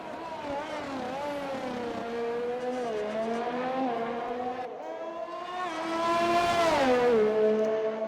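Formula cars launching off the start of the Baku City Grand Prix street circuit in a Formula racing video game, engines screaming at high pitch and climbing through the gears together, loud and continuous with a swelling surge near the end.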